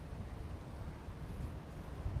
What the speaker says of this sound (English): Oh, you see this wind?